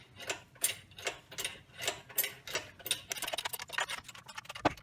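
A press pushes a wheel bearing out of the hub knuckle of a 2003 Nissan Altima 3.5, giving faint rhythmic mechanical clicks that start slow and evenly spaced, then quicken into a dense ratcheting patter.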